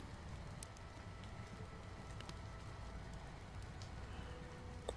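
Rain falling outside an English cottage, a faint, steady patter and hiss with occasional soft drips and ticks standing out.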